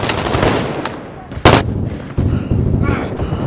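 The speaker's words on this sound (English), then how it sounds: "Cruise missile, go for launch." A cruise missile strike in the Modern Warfare video game lands as loud, close booming blasts and crackling explosions, with heavy impacts in quick succession amid continuing battle noise.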